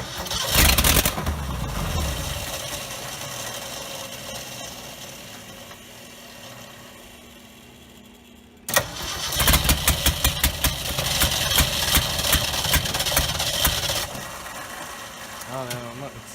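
The starter cranks the engine of a 1969 Ford F250 that has sat unrun for 11 years, with a short burst of cranking, a pause, then a sharp engagement and a longer stretch of rapid rhythmic cranking, with people talking nearby.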